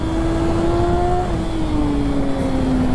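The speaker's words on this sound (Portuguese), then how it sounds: "o barulho dessa moto aí é muito mais louco" A loud, close professional racing motorcycle engine holds a sustained high whine whose pitch slowly drops, over a steady rushing roar, on a track with tight curves.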